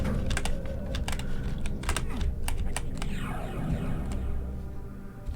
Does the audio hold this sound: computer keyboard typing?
yes